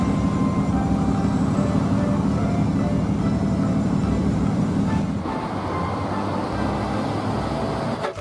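A toy electric commuter train makes a continuous rumbling, rattling train-like drone, steady and fairly loud, shifting slightly toward the end.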